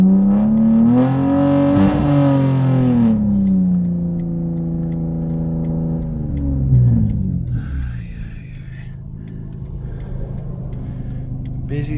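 A straight-piped green V6 car with a 5-speed manual revs hard and accelerates, its loud rising engine note climbing through a gear and then settling into a steady rumble of cruising road noise on a busy Saturday.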